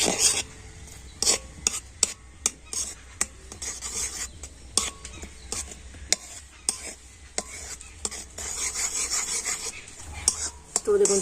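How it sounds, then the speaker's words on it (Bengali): A utensil scrapes and rasps around a pan in repeated strokes as sugar melts for caramel for mishti doi, close and moderately loud, with light clinks between strokes. "আলতো করে এইভাবে নাড়াচাড়া করে দেব এইভাবে নাড়িয়ে চাড়িয়ে তো চিনিটাকে কিন্তু খুব ভালো করে গলিয়ে নিতে হবে"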